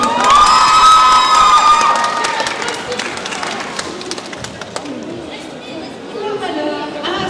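A crowd at a manga contest claps and cheers loudly, with children's shouts and lively chatter mixed in, the excitement easing gradually as the noise settles.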